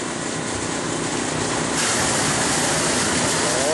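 Water pouring steadily out of an oil-water separator, a loud, continuous broadband rush that grows slightly stronger midway, with no talk.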